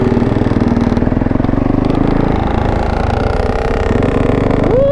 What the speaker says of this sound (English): that 2-stroke sounds so sexy